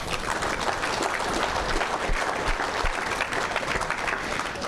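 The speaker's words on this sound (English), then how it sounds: "Let's give them a round of applause" A banquet crowd at an awards ceremony applauds its sponsors, with dense, sustained clapping at a steady level throughout and no talk over it.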